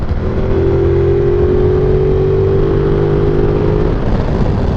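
A Ducati Multistrada V2S motorcycle engine drones loudly at high, steady revs around 5,000-6,000 rpm, a sustained buzzing hum with wind roar, holding pitch with a slight rise, in the Italian Alps.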